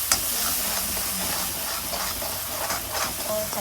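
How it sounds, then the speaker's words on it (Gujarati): Chopped onion fries in oil for palak paneer, a steady close hiss and sizzle with faint crackles running throughout. "કાંદાને તેલમાં થોડો થવા દઈએ."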